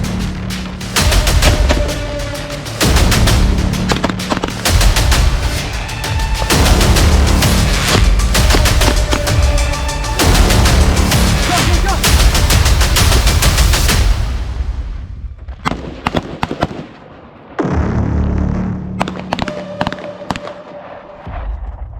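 Rifles fire in rapid, overlapping volleys at a training range, loud and dense for a long stretch before thinning to scattered separate shots.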